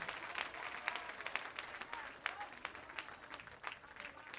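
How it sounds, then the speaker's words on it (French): A church congregation applauding during worship, brisk, dense clapping that carries on steadily throughout, with faint voices underneath. "Par l'Éternel, applaudissement pour nous"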